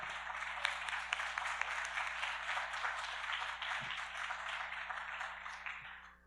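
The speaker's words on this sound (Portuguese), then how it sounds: "quantos nesta noite podem aplaudir-o de coração?" Applause from a church congregation at an evening doctrine service rises as a steady, dense patter of clapping, moderately distant and quiet over a low hum, tapering off at the end.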